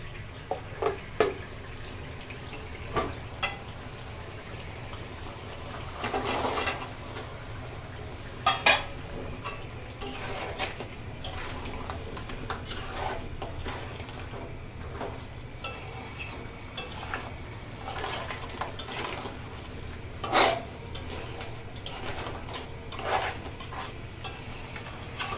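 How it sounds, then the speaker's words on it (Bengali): Sea crabs stirred into fried spice paste in a pan, a low steady sizzle broken by intermittent scraping and clattering stirs, close-up and with no voices. "আমি এখন কাঁকড়াগুলো দিয়ে দেব।"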